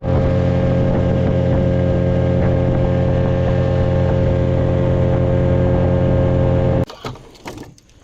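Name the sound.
motorboat engine running on water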